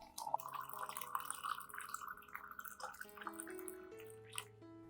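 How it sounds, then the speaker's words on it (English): Hot water poured onto rice powder, a close trickling and dripping stream with bubbly gurgles that settles into softer drips and ringing tones near the end. "add about 500 milliliters of hot water to dissolve the rice powder"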